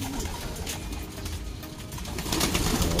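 Pigeons cooing in a loft or coop, soft low coos repeating under steady background noise and rustling, with no talking.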